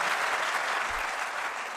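A crowd of young people gathered at a meeting in Delhi applauds in a thick, even wash of clapping that runs without a break through a short stretch.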